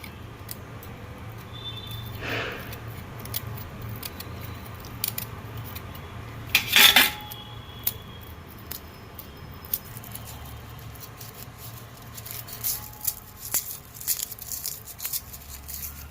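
Roots cut off whole garlic bulbs with a knife or scissors, giving soft rustling, rubbing papery skin and a few sharp snips, including one louder crisp cut, at close range.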